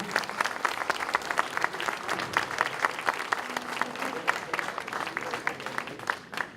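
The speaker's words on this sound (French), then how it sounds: "Ça mérite des applaudissements." Moderately faint audience applause in a hall, with individual sharp claps standing out over a continuous patter of many hands, steady for several seconds.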